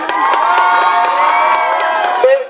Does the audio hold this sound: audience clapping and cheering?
yes